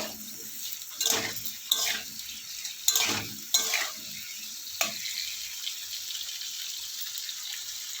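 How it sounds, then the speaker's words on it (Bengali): Potatoes fry in hot oil with salt and turmeric, a steady sizzle broken by several sharp scraping bursts of stirring in the first five seconds, then a calmer crackle. "নুন, হলুদ গুঁড়ো দিয়ে ভালো করে নাড়াচাড়া করে ভেজে নেব।"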